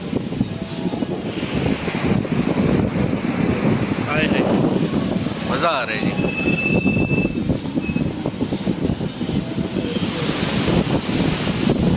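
Strong wind roars steadily into the microphone throughout, with someone speaking briefly over the constant gusting noise.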